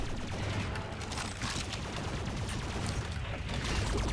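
Rapid sustained gunfire from a favoured rifle in Call of Duty: Infinite Warfare, a dense stream of fairly quiet shots over a low rumbling battle bed, with no talking.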